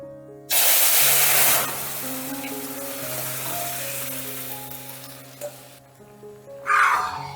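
Cooked lentils hit a pan of hot asafoetida tempering, a loud burst of sizzling and spitting that settles into a steady lower frying hiss, with a second sharp flare near the end.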